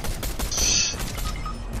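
Gunfire in a shooting video game comes as a quick burst of sharp shots with a metallic mechanical ring partway through, close and fairly loud, with no talk during it.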